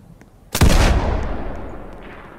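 A single loud, close revolver gunshot in the Dead Rails video game, a sharp crack followed by a long decaying boom after a quiet lead-in.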